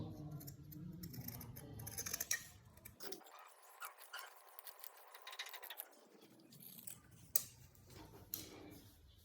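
Scissors snip through fabric for a kurti in a series of faint, close, crisp cuts spread irregularly over several seconds in a quiet room.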